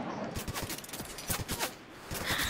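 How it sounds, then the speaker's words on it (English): Gunfire in the Fortnite video game, a scattered run of sharp, fairly distant shots in quick irregular succession, moderately loud against background game ambience. "Oh, I just got shot at."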